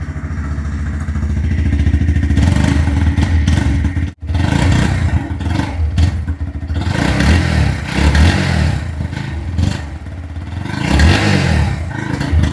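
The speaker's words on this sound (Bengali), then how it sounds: "এবারের এক্সস্ট সাউন্ডকে একবার শুনে নিন।" A 2026 Bajaj Pulsar NS 125 motorcycle with a 5-speed gearbox sends out a loud, close exhaust note that rises and falls in repeated revs, with one brief dip midway.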